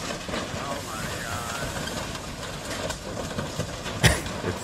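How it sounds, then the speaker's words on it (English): Train slowly braking to a stop, a steady rumbling roll with faint rail clatter and a brief sharp squeal or clank near the end, heard at moderate distance. "this is how long it takes to stop a train"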